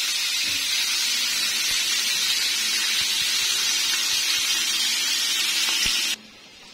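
Mutton hits hot ghee in a pressure cooker with a loud, steady, close sizzle that runs unbroken and then cuts off abruptly near the end.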